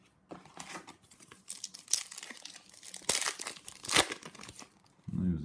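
Foil packs of KHL Platinum Collection 2016 hockey trading cards being ripped open up close, with crinkling, crackling bursts and sharp tearing swipes in quick uneven succession, then a short low thump at the end.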